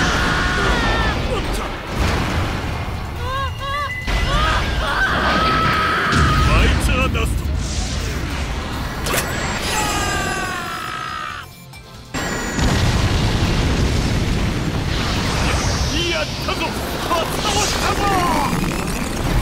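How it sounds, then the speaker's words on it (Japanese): Killer Queen's third bomb ability going off during a match of JoJo's Bizarre Adventure: All Star Battle R, loud booming blasts and crashes amid dense game music and effects, with character voices shouting throughout. "キラークイーン第3の爆弾。"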